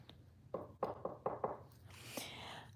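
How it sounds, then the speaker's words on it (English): Several knocks on wood, close and moderately loud, come in a quick uneven series of about five raps followed by softer handling noise. "Let me knock on wood."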